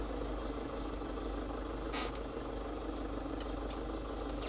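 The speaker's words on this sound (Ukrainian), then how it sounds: "Ох машини, всі на роботу їдуть або десь по ділах" Steady low engine rumble of morning traffic on a road in Switzerland, with a couple of brief swishes as vehicles pass at moderate distance.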